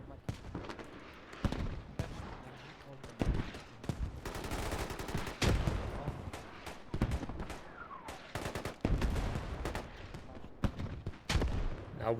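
Gunfire and mortar fire in a Squad esports match, with repeated sharp shots and bursts near and far over a constant battlefield rumble and no clear speech.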